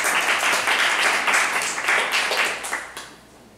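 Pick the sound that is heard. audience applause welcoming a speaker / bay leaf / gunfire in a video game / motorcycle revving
audience applause welcoming a speaker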